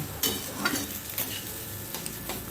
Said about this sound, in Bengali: এবার এই চালটাকে একটু খানিক্ষণ ভেজে নেব